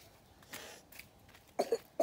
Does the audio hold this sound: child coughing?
yes